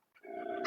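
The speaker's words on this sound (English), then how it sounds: "why is she barking all the time?" A single short, faint bark or yelp from a female dog rises and holds briefly, heard alone with nothing else around it.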